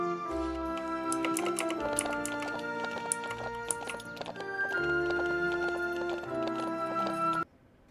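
Horse hooves clip-clop steadily in the ranch video game The Ranch of Rivershine, a quick repeating trot over tonal background music, stopping abruptly near the end.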